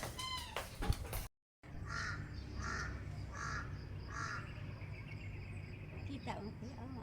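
A crow caws four times in a steady series, moderately loud against outdoor background noise, with a brief dropout before the calls begin.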